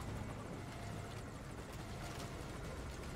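Helicopter rotor chop in the video game Metal Gear Solid V: Ground Zeroes, a steady, loud whirring roar that holds unbroken throughout with no voices.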